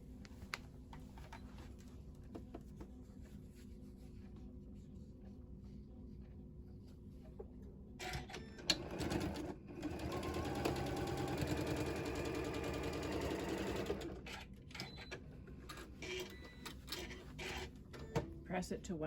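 A home sewing machine stitches a quilt block in a steady mid-length whir, run once in a quick burst amid quiet room noise and small handling clicks.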